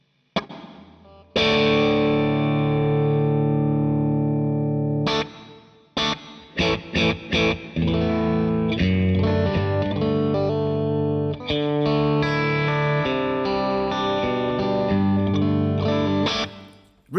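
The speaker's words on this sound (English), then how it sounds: "Real Verb is a really versatile reverb" Distorted electric guitar plays sustained chords and choppy strummed bursts through a Real Verb reverb plugin, with a lingering reverb tail washing over each phrase.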